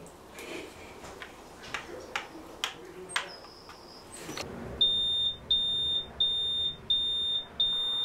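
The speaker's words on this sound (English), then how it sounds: "What's that? I think it's the fire alarm." A fire alarm sounds as a series of loud, evenly spaced high beeps in the second half, following several sharp knocks and clicks at the start, with no talk over it.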